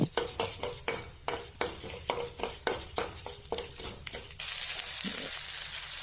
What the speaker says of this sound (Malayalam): അതിലേക്ക് കടുക് പൊട്ടിക്കാൻ കടുക്, ഉഴുന്നുപരിപ്പ്, മുളക്, കറിവേപ്പില എന്നിവ വഴച്ച്